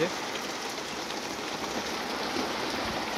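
Heavy rain falls in a steady, dense roar, a close continuous wash of drops on surfaces with no break, heard during home cooking of koi fish curry.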